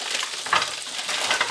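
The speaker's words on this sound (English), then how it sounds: "Now our butter is just about to start smoking." Pork chops fry in browning butter in a hot pan, giving a close, steady hiss and crackle with brief louder sputters.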